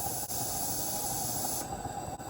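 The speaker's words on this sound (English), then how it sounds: "It has a really nice, positive safety valve. It snaps on and snaps off very positively." A live steam G-scale Aristo-Craft model locomotive's safety valve hisses steadily and loudly for about a second and a half, then cuts off sharply and the hiss drops away.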